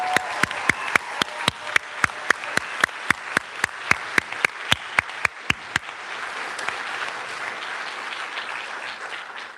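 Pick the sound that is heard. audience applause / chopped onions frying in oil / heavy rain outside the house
audience applause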